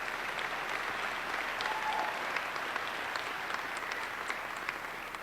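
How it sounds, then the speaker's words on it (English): A conference audience applauds the speakers, producing a steady wash of clapping from a sizable crowd heard from a short distance, holding at an even level throughout. "Let's get a big round of applause for them."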